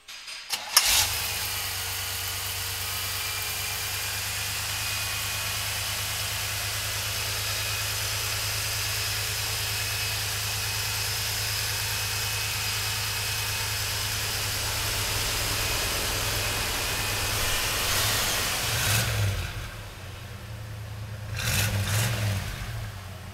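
1985 Chevrolet K20 4x4 pickup engine cranking and catching, then settling into a steady close idle with a low throbbing hum, followed by a few brief revs near the end.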